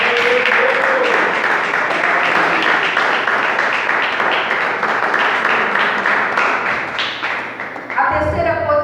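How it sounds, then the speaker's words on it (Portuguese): Congregation clapping throughout an evangelical couples' church service, a dense, sustained burst of many hands, loud and close, with a voice speaking over it and fading toward the end. "As palmas"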